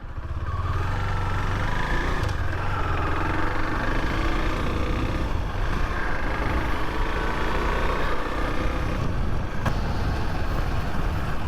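A Husqvarna Svartpilen motorcycle engine, still being broken in, runs steadily and loudly close by with a continuous rumble and no talking.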